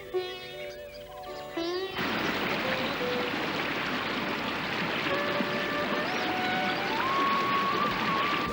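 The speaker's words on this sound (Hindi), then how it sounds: "नदी के पानी की ध्वनि सुनाई दे रही है" Godavari river water flowing steadily, a broad continuous rush with brief tonal music-like lines over it, preceded by a short quieter tonal passage.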